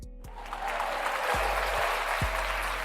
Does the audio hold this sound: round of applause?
yes